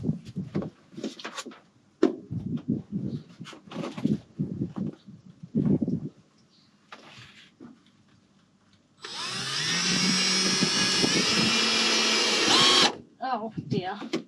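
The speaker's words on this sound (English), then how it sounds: "Maybe if I just drill holes in the ply first" A power drill whirs loudly and steadily for several seconds, drilling holes in plywood for a van ceiling, after stretches of nearby talking and handling noises.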